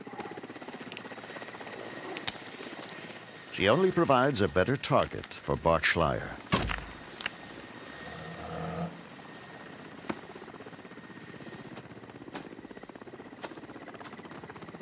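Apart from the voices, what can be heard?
helicopter flying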